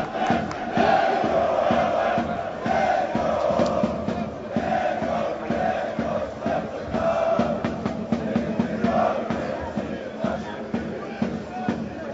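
Slutsk football supporters chant loudly in a stadium during a Belarusian top-league home match against BATE Borisov, a dense rhythmic roar of many voices sustained throughout with a commentator's voice over it.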